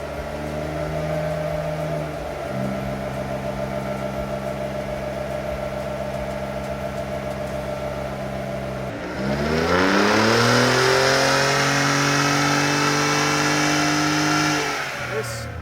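Ford F150 EcoBoost pickup fitted with a hi-flow turbo and exhaust, running hard on a dyno: a steady loud engine drone rising in pitch through the gears, then a stronger second pull climbing before it cuts back.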